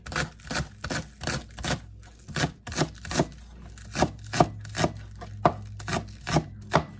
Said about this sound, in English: To cut them like this and just chop.